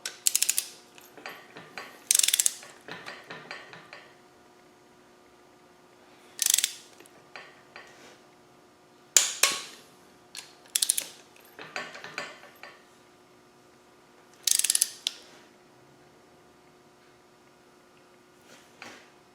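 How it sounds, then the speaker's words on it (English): A torque wrench ratchets as it tightens cylinder head bolts on a 300Tdi engine during a rebuild, giving repeated clicking bursts separated by quiet gaps, close and crisp with no talk. "And then we'll get the torque wrench and set it to 25 Newton meters."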